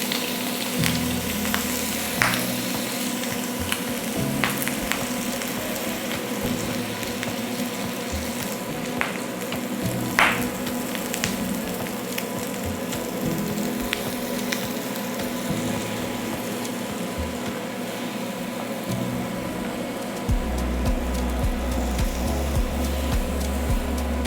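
Bánh xèo crepe batter frying in a hot pan, a steady loud sizzle broken by sharp pops and crackles throughout, with a few clanks of the pan.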